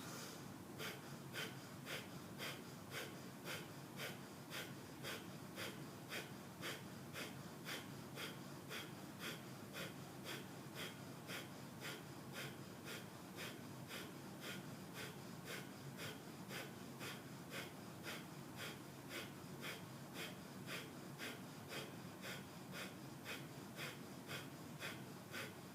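Breath of Fire breathing done through the nostrils, a long run of fast, evenly spaced sniffing pulses. It is very faint and steady, with no talking.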